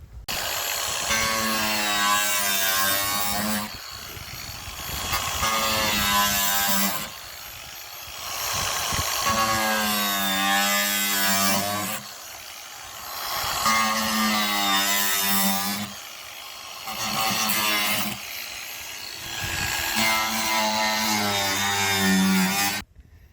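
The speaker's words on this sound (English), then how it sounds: "We got our grinder, and I'm just gonna do a little boom, done." A grinder cuts the bottom out of a 5-gallon plastic pot, giving about five loud, close bursts of whining motor noise whose pitch wavers up and down, with short lulls between them.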